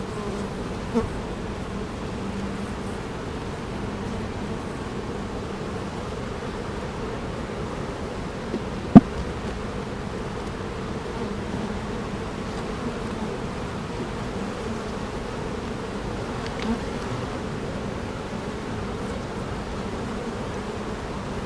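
A honeybee colony hums with a dense, steady buzz throughout a hive inspection, close and continuous, broken only by a couple of faint clicks.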